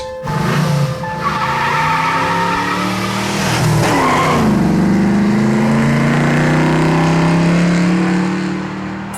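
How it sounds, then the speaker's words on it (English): Several car engines rev loudly and tires squeal, the roar rising and sliding in pitch as the vehicles accelerate close by; no talking. "hears a bunch of cars and engines revving up. Cars come out of the garage."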